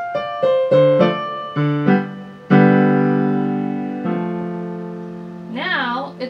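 A piano plays a three-measure passage of a piece from a piano book: crisp staccato notes, then ringing sustained chords that fade. A brief wavering sound follows at the very end.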